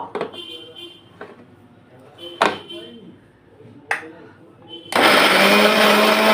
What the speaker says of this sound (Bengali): এইভাবে মিক্সিটা এবার পেস্ট করব